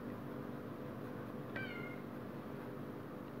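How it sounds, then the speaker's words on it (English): A single short cat meow rises clearly midway, moderately close, over a steady quiet room hum. "you hear my cat Izzy?"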